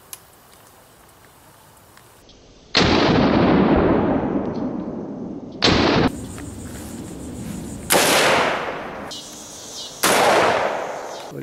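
A heavy gun fires about five separate, very loud shots at a shooting range, each one a sharp blast with a long rolling echo that fades over a second or two, spaced a few seconds apart.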